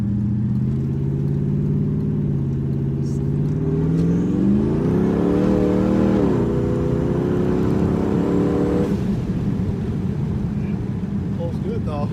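An LS-swapped BMW E36 pulls hard at full boost from inside the cabin, with a loud, steady engine drone that rises in pitch through a gear, drops at a shift, then climbs again before settling.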